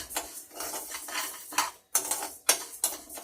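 Half a cup of raw rice dry-roasted in a pan, with repeated scraping and clinking of a utensil against the metal pan in uneven bursts, close and fairly quiet, no voices.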